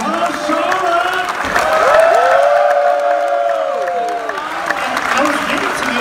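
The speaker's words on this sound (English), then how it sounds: "his applause is bigger than mine" Film premiere audience applauding and cheering with whoops, a loud crowd roar swelling mid-clip, with voices talking over it.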